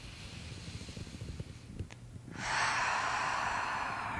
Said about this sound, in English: Taking a nice big breath.